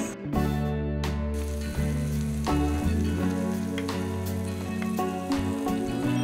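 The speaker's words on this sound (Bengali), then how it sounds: "পেঁয়াজ দিয়ে হালকা একটু ভেজে নিতে হবে" Onion frying in hot oil with garlic paste added, a steady close sizzle and crackle that runs without a break, no voices.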